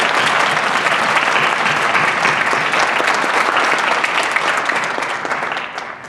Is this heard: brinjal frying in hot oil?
no